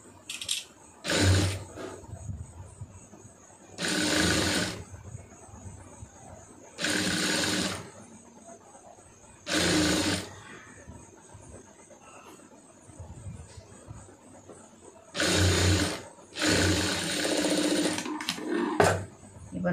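A sewing machine stitching the folded hem of a large sleeve, running in several short whirring bursts separated by pauses, close and steady, with no one speaking.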